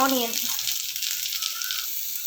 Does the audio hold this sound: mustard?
yes